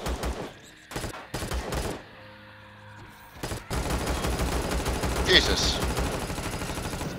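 Turret gunfire in the space survival game Empyrion, rapid bursts at moderate distance that come in choppy clusters and then settle into sustained firing, with people talking over it.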